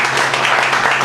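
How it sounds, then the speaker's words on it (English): A short burst of audience applause after a talk, a dense, loud wash of clapping hands lasting only about a second. "Big round of applause for this man."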